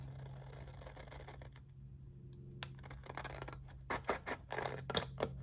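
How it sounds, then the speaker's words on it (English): Scissors snipping along the edge of paper for a mini album, quiet close cuts and scratchy rustles that grow busier toward the end. "So I'm going to cut this right here."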